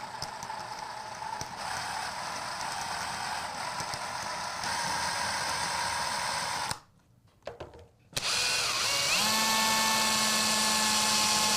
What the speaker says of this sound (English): You're going to be drilling through the center.